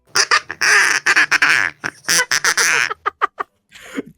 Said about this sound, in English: They're all duck calls.